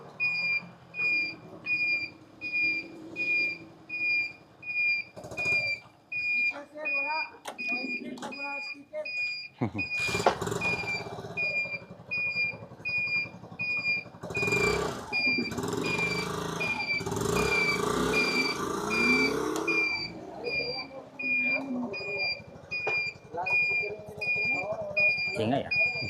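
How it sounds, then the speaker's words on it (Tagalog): An e-bike reverses out of a gate in Metro Manila while a reversing alarm beeps in a steady, repeating pulse over a low motor hum. Someone talks over it. "patrasin muna natin tong sasakyan"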